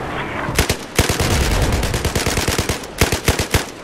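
Battlefield 4 gameplay with loud, close machine gun fire in rapid bursts, a steady rattle of rounds broken by short gaps and then a final sharp cluster of shots.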